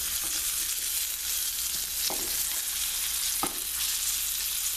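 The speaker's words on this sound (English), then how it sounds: "The butter's burning a little, but that gives it a nice flavor." Veal loin chops frying in slightly browning butter in a pan, a steady close sizzle throughout with a couple of brief knocks or stirs, no talking.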